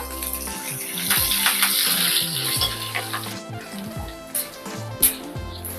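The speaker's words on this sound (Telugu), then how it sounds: "చూడండి వేగిపోయింది కదా ఈ పోపు" Dried red chillies and curry leaves sizzle and crackle in hot oil for a dal tempering, a steady close frying hiss with sharp pops and spatters, alone with no talk.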